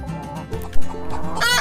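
A chicken clucks in a short run of close, clear calls, with a louder squawk midway.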